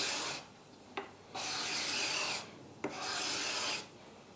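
A card scraper shaves cocobolo wood in two long, close rasping strokes, each opening with a brief click as the burr bites, with quiet pauses between and no talking.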